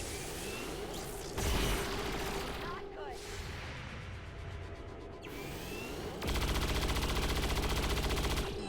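Video game gunfire in XCOM 2, with bursts of rapid automatic shots separated by mechanical and ambient game sounds, ending in a dense sustained volley.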